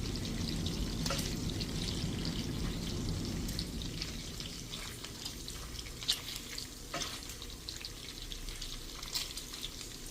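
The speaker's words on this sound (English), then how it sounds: "And you can hear the sound sizzling." Bacon frying in a pan, a steady close crackling sizzle with sharp pops scattered throughout, continuous and alone without talk.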